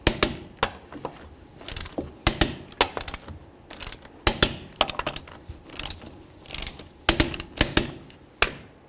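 Torque wrench tightening lug nuts on a Chevy S-10 wheel to 100 foot-pounds, producing repeated sharp metallic clicks and clacks in irregular bursts, close and fairly loud.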